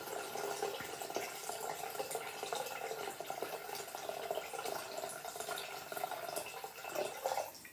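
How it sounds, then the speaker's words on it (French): Filtered water, 700 g of it, is poured from a pitcher into a pan while making a gorgonzola risotto, a faint, steady trickling stream that runs continuously with a few splashy drips. "on remet à 0 et on rajoute du coup 700 g d'eau"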